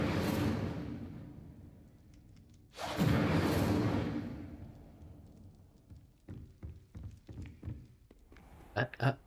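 Fire spell cast in the video game Hogwarts Legacy, a sudden full whooshing burst lasting about a second amid quieter game ambience, followed by scattered light taps and thumps.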